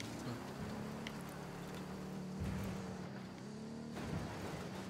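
A powerful car engine hums and drones steadily in the video game Ghost Recon Wildlands, with a constant low rumble and slight shifts in pitch as the vehicle is driven.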